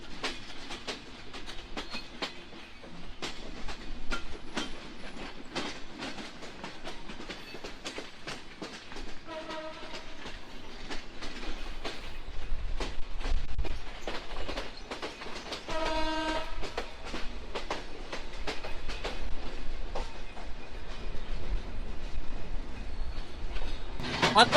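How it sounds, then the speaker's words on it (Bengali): The Chitra Express intercity train, number 763 from Khulna, rumbles along the rails with rhythmic clickety-clack, growing louder over time, and its horn sounds a couple of times amid the rolling noise. "আন্তনগর চিত্রা এক্সপ্রেস ট্রেন নম্বর 763"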